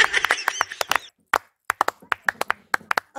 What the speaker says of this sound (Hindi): अब पूछ तो लो क्यों बजा रहे ताली